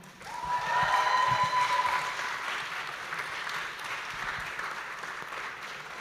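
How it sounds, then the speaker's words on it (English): Audience applause for a young emerging artist at a Kaunas stage event, swelling quickly to a full, even clatter of many hands and holding steady, with a brief voice at the start. "please applaud this young emerging artist"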